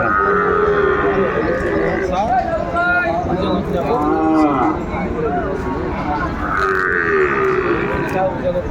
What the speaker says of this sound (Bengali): চমৎকার একটি ষাঁড় বাচ্চা সুন্দর মানের